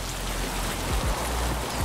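Rain in the shooter Escape from Tarkov falls as a steady, dense patter that hisses on surfaces throughout, with a couple of low thumps underneath and no talking.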